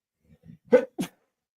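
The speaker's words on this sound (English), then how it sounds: "I got a sneeze coming." A single sharp sneeze with a short inhaling buildup before it, close and loud, followed by a brief exhale.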